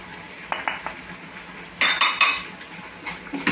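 Spaghetti stirred with a utensil in a pan, bursts of metallic scraping and clinking at an irregular pace against a quiet background.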